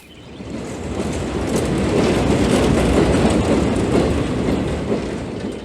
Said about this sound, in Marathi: रमेश लगेच दुसऱ्या दिवशी ट्रेनने सुरेशच्या गावी जाण्यासाठी निघतो.